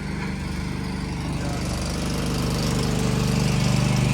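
Several lawnmower engines idle and run together in a line outdoors, a steady loud low drone with rhythmic pulsing throughout.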